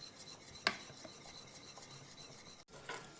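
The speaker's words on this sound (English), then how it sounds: "you use a whisk" A whisk scrapes and rasps around a pan of white sauce for a lasagne, a faint, steady rubbing stir with one sharper metallic knock near the start.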